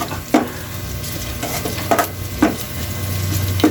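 Beef skin adobo with black beans frying in a pan, a continuous sizzle broken by several sharp scrapes and knocks of a spatula against the pan, close and loud, with no talking.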